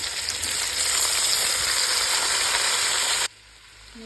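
Pork with onion and tomato sautéing for sinigang, a loud, steady close sizzle that cuts off abruptly near the end, leaving quiet.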